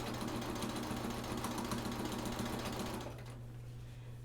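A sewing machine with a walking foot stitching binding onto a quilt runs in a fast, even whir for about three seconds, then stops, leaving quiet room hum.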